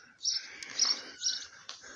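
Small birds nesting on a village house chirp and twitter in quick bright bursts, fairly close, in the morning, with a soft background hiss and no talking.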